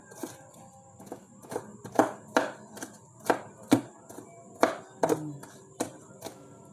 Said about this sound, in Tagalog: Kaya nato ning gagmay-gagmayon ang ahos guys.